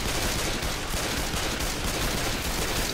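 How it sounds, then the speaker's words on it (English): Dense, continuous automatic gunfire rattles loudly without a break as players shoot zombies in the video game Left 4 Dead 2. "Shooting all the zombies"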